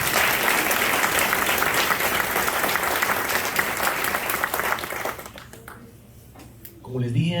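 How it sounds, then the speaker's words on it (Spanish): A church congregation bursts into loud, dense applause that carries on for about five seconds, then drops away to quieter scattered sounds before a voice returns at the end. "Dale un aplauso a la Iglesia Católica."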